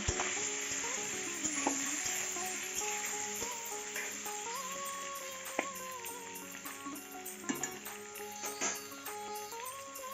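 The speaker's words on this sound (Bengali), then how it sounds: "পটলটাকে ভালো করে ভেজে নেবে" Pointed gourd (potol) frying in oil with salt and turmeric: a soft, steady sizzle with occasional stirring knocks, partly masked by tonal background music.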